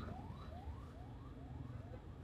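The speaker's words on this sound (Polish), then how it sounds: "O, karetka jedzie." Ambulance siren in the Philippines, its wailing tone sweeping up repeatedly in a steady rhythm, moderately distant over a constant rumble of street traffic.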